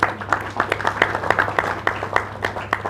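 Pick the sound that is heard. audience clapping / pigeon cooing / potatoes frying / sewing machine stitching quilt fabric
audience clapping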